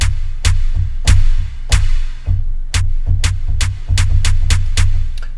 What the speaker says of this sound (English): let's check out this reverb